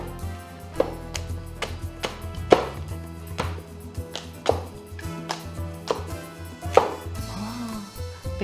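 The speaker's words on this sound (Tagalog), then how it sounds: "Pinggan lang, nahati ko na yung baboy." The edge of a plate hacks through crispy roast suckling pig, cochinillo-style lechon de leche, giving sharp cracking chops roughly once a second over a steady tonal background.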